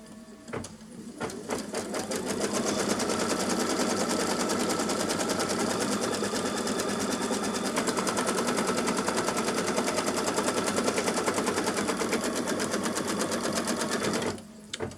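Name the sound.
stitching fabric scrap in place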